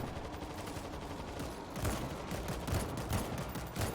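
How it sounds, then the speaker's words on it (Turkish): Gunfire aimed at zombies in the World War Z video game, with a rapid stream of fairly loud, close shots that grows denser after the first couple of seconds over a steady background bed. "Şuradan geliyorlar dur onları vurayım."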